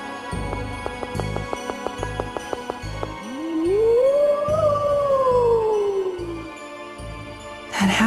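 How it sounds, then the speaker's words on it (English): A monster's howl in the video game Tales of Symphonia: Dawn of the New World, a long wavering cry that rises, peaks and slowly falls over a rhythmic game music backing with plucked notes. "That howl again."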